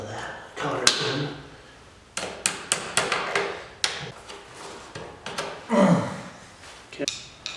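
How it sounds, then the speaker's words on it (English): Metal tools tap and knock while working a cotter pin loose on a DRZ400 motorcycle kickstart assembly, a run of sharp, close hammer-like raps in quick bursts, with someone talking between them. "Get a hold of that cotter pin."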